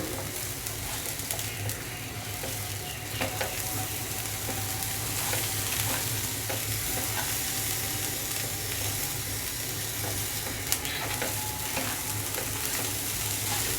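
Rice and lentils for khichuri fry with turmeric and salt while being stirred, giving a dense, steady close sizzle with soft irregular scraping throughout and a faint low hum beneath.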